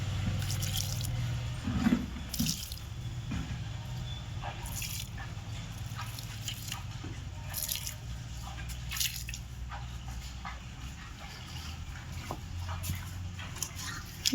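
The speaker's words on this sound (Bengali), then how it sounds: "এই মানি প্ল্যান্টে জল দিচ্ছি" Water poured onto a dried-out money plant, a soft steady trickle and splash with scattered drips running throughout at close range, no talking.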